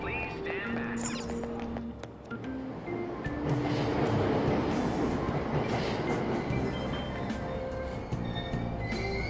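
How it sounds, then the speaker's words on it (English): A train pulls out of a station in the video game Persona 5 Royal, its steady rumbling, rattling roll with clacking wheels filling the whole stretch, along with a few bright chime-like tones and faint background voices. "Train doors are now closing."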